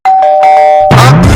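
A loud electronic calling bell rings close by with a sustained chime, followed by a second two-tone ding-dong, all heard alone.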